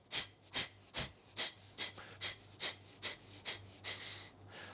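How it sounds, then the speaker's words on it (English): Rapid, forceful breaths pushed out through the nose with the stomach snapped inward, about eleven sharp, evenly spaced huffs in quick succession, close and fairly loud, with no talking. "You do 30 breaths by slapping your stomach, quickly whipping it in, breathing out forcefully through the nose."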